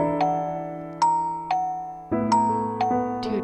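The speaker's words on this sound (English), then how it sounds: "suddenly I heard someone ringing the bell at the door." A doorbell chime in an audio drama rings out in a series of clear, bright tones, each note struck and decaying, layered and repeating over a few seconds with no voices.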